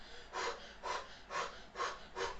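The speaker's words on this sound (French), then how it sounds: "Ah, je suis essoufflé." A cyclist, out of breath after climbing a steep 8% road, breathes heavily: five loud, rhythmic puffs of breath come at a steady pace, close to the microphone, with no talking.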